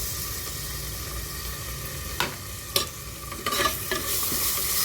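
Onions with ginger-garlic paste sautéing in a pan, with a constant gentle sizzle and several distinct spatula scrapes and knocks close by, with no talking.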